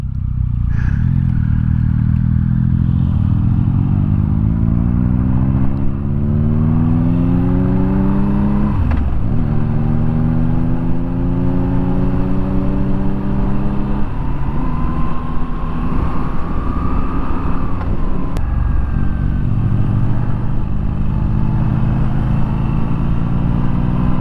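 A Moto Guzzi V7 Special motorcycle is ridden through several gear changes, its engine note climbing, dropping and climbing again, loud and close, with wind rush and occasional clatter throughout.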